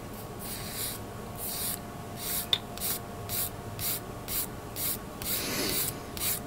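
Rhythmic back-and-forth scratching of 400 grit sandpaper on plastic Gundam Epyon model kit parts, close and steady strokes at about two per second, with one sharp click midway and no talk.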